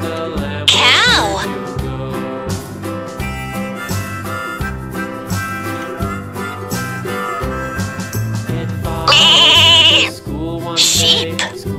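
A Fisher-Price Laugh & Learn toy gives short electronic sheep bleats, two bursts set against bouncy children's music with singing throughout.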